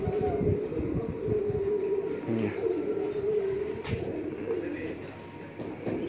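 Golden pigeons coo on a Lahore rooftop, a low repeated cooing near at hand with voices talking over it in the background.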